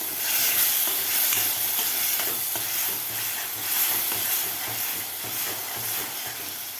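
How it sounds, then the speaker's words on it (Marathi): Freshly ground masala paste sautés in oil in a pan for a spicy Holi-special katachi amti, a steady close sizzle and frying hiss with faint stirring scrapes throughout. "2 मिनटं व्यवस्थित आपल्याला वाटण तेल सुटेपर्यंत परतून घ्यायचं आहे."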